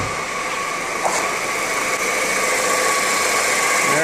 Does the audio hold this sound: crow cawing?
no